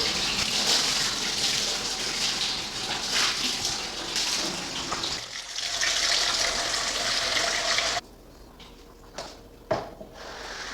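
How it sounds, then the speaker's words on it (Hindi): Water splashing and gushing steadily while a floor is washed in a home kitchen in Saudi Arabia, fairly loud and continuous, then cutting off sharply with a few faint knocks afterward. "अभी मैं फ़र्श वॉश कर लूँगी।"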